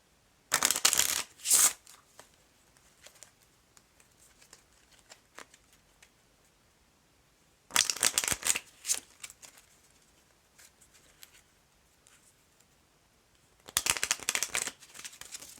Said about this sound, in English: now we're going to get a couple cards from the Cards Against Humanity deck